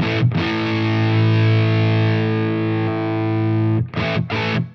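An electric guitar through a Flattley Plexstar pedal boosting a Plexi-style amplifier rings out one heavily driven, sustained chord for nearly four seconds, followed by two short, punchy distorted stabs.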